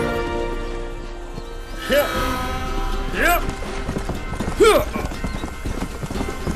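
Horse hooves clip-clop steadily through a Western-themed video game, the rhythmic steps running under a voice, with a few brief whinny-like swells rising over the hoofbeats.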